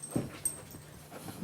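A poodle mix dog gives a brief high whimper near the start, followed by soft panting and faint movement close by in a quiet indoor room during training.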